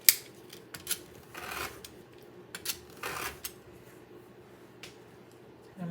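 Scissors snip the sewn edges off pieces of fabric for a Dollar Tree shelf-sitter craft, giving a handful of quiet, irregular cutting clicks spread over a few seconds with no talking.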